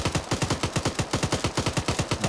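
Rapid automatic gunfire in Arma 3, a steady burst of roughly twenty evenly spaced loud shots fired at an armored enemy, with no talking over it.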